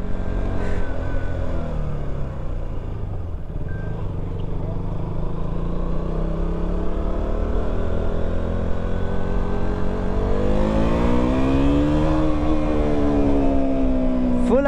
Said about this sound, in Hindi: Full RPM red line.